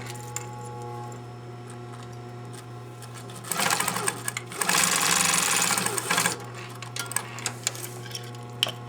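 A sewing machine pre-stitches a regular seam on fabric, running in a loud, rapid burst of mechanical chatter for a few seconds amid a steady motor hum and scattered clicks, close up and without talking.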